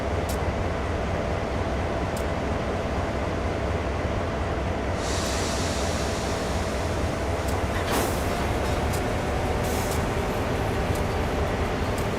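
A CSX freight train rolls on in the Train Sim World 6 game with a constant loud rumble and engine drone, joined by a brief hiss burst and a few clicks.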